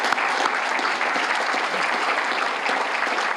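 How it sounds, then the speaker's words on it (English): An award ceremony audience gives sustained, dense applause that holds a thick, even roar of many hands clapping throughout, with no pauses. "a round of applause, folks, for the FATV crew and all their efforts"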